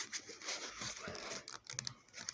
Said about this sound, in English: Can you hear the marbles rattling around in there, around the thermometer?